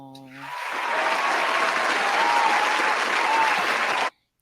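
Applause from a small audience swells quickly after a brief tone, holds as a dense steady clapping for about three seconds, then cuts off abruptly.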